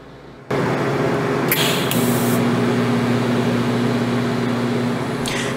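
TIG welding on a pipe T-joint with the current pulsed by hand, a loud steady hiss and hum starting abruptly and running continuously close by, with a faint electrical tone and brief crackly bursts.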